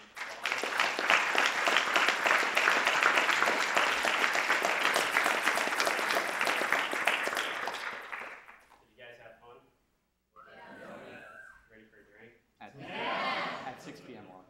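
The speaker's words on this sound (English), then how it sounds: "You all should give him a nice round of applause" A room of trading-competition bootcamp attendees gives a sustained, loud round of applause lasting about eight seconds, then it fades out and scattered voices and murmurs follow.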